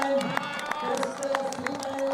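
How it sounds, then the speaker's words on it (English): A crowd at a Lillehammer para Nordic sitting ski race finish cheers and applauds steadily, with a continuous roar of voices and claps, while a commentator talks over it. "Being cheered by the crowd, everyone applauding"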